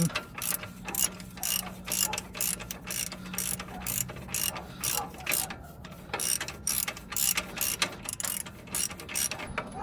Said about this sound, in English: now we got this nut in, we're going to tighten it up